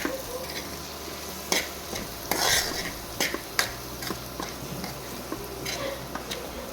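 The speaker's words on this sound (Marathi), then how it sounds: "छान असं परतून घ्यायचं आहे" Coriander powder and turmeric sauté for Puneri misal, a soft sizzle in the pan broken by sharp clinks and scrapes of a spoon against the metal, close and fairly quiet with no talking.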